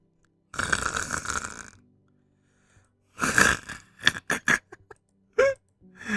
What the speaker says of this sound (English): Dude, stop snoring.